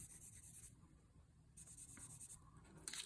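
A graphite pencil lightly shades a value-scale worksheet. Soft, close scratchy strokes come in two short bursts separated by silence, and a final brief scrape follows.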